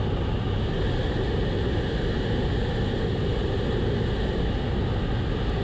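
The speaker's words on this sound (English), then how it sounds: "So as we approach, I come in a little too hard and flare a little bit too late, so it's a pretty hard landing" A steady, loud engine and wind roar fills a small airplane's cabin as it comes in to land on a runway, with no distinct touchdown and no voices.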